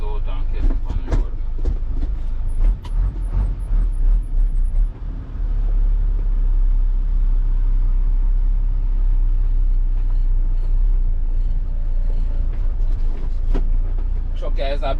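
A heavy working truck rolls along the road, its deep engine rumble and road noise loud and continuous from inside the cab, with rattles and bumps near the start.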